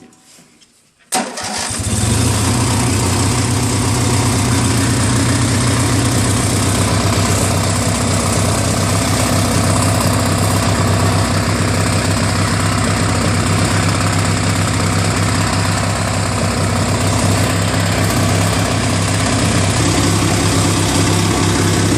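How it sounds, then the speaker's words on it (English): Opposed-twin engine on a Murray Ultra garden tractor with magneto ignition, running rough, starts abruptly after a second of quiet and then runs loud and steady at close range for the rest of the clip. "so I know it's running on both cylinders"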